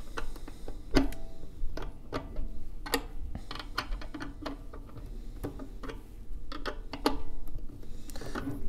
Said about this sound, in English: that's how we're loosening the chin rest, and you can see it's starting to wiggle a little bit